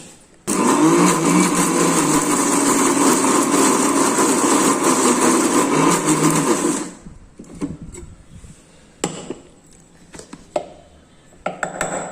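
Kitchen mixer grinder whirs loudly while blending urad dal into ridge gourd chutney, a steady high motor drone for about six seconds that cuts off abruptly, followed by scattered clinks and taps of the jar and lid.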